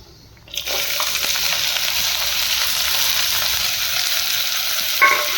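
Mustard seeds and cumin hit hot oil with a sudden burst, then a steady bright sizzle and crackle holds close and loud, with a brief clatter near the end and no voices.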